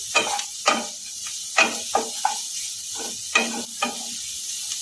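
Shredded cabbage fries in a pan for vegetable soup while a spoon stirs it, with repeated scraping strokes over a constant loud sizzle.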